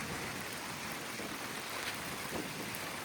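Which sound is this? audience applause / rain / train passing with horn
rain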